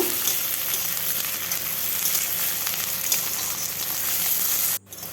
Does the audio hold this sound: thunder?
no